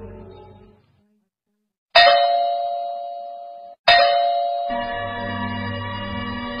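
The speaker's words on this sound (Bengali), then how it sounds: "এত রাতে কলিং বেল দিচ্ছে কে?" A doorbell rings twice at night, each a loud, clear ding-dong chime that rings out and fades, the second chime followed by a low hum after a brief pause.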